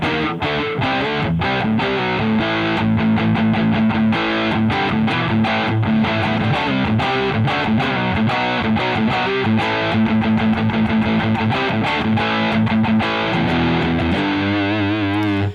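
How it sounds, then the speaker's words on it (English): Electric guitar played through a Musiclily ODDT-01 distortion pedal with EQ shaping before the amp gives a loud, saturated, buzzing tone of dense chords and riffs, played continuously and alone. "let's see if this distortion pedal will benefit from the EQ"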